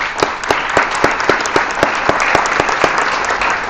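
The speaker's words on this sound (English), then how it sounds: "So big round of applause for these young ladies." An audience at a board of education meeting gives a loud, sustained round of applause for a group of young students, with crisp individual claps in a steady rhythm throughout.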